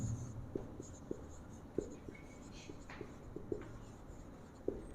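A pen writing on paper makes soft, close scratching strokes, with a series of irregular small taps and scrapes as words are jotted down in quiet surroundings.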